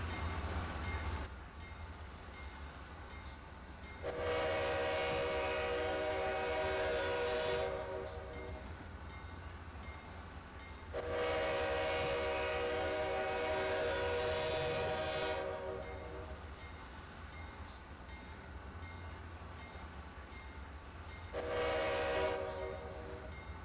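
Pacific Surfliner locomotive horn in Train Simulator 2020, departing San Diego, sounds in three long chordal blasts of about three to four seconds each, separated by pauses, over a steady low rumble of the moving train.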